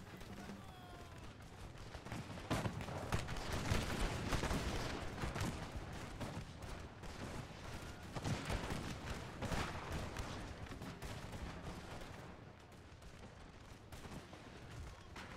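Musket volley fire in the Napoleon Total War video game, with dense overlapping crackling shots rolling on continuously from start to finish at moderate, fairly distant volume.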